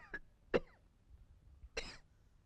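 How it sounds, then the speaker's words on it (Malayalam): A man coughs in three short, harsh bursts spaced apart in a quiet room during a phone call scene from a Malayalam film, nearby and fairly clear with no talk over it. "നിന്റെ ചുമയൊന്ന് നിർത്ത്"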